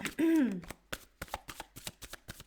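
A deck of tarot cards being shuffled: one brief tonal sound at the start, then a quick run of crisp, evenly spaced card slaps and riffles, close and clear.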